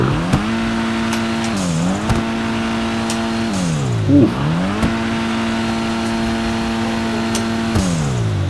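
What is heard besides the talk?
turbocharged car engine revving in video game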